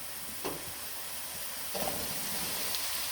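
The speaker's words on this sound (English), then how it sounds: "So now we're going to add in our peas." Peas tipped into a hot pot of herbs and spices set off a steady, close sizzle, with two brief bursts of louder hissing as they hit the oil.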